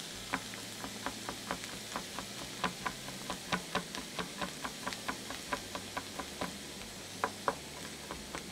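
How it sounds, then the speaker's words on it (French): A small garlic clove chopped rapidly with a knife on a board, a brisk, uneven run of close, crisp taps spread over several seconds against faint background noise, no voices. "je vais mettre une petite gousse d'ail. Je vais hacher rapidement."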